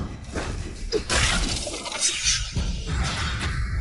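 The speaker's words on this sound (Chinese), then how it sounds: "怎么把盒子给摔了？" A box is flung down and smashed in an imperial palace court scene, giving a loud, close shattering crash followed by rattling, scattering fragments over a few seconds.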